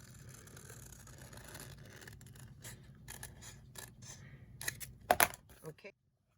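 Scissors snipping along the curved edge of a folded fabric template for a 3D no-fog glasses project, a run of close, crisp cuts ending in a few louder snips, with faint room noise beneath.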